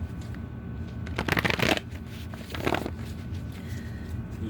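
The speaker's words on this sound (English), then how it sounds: "Might as well shuffle everything into the deck, right?" Tarot cards being shuffled by hand, two bursts of riffling and sliding cards close to the mic, separated by brief pauses over a quiet room tone, with no talking during the shuffle.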